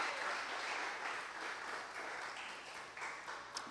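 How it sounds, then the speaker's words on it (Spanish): Church congregation applauding during a devotional service, a sustained crowd of clapping hands at moderate level, fading slightly toward the end. "denle aplauso fuerte al Rey bendito"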